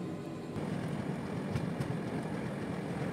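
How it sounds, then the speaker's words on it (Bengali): The Darjeeling Mail passenger train runs past the Malda railway car shed, a steady low rumble of wheels and carriages rolling on track, continuous and fairly loud with faint rattles on top. "ট্রেন এখন মালদা রেলওয়ে কারশেড অতিক্রম করছে"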